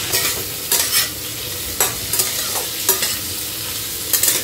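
Prawns frying in a pan are stirred with a utensil, producing a series of sharp scraping strokes at irregular intervals over a soft background sizzle, close and clear, with no talk.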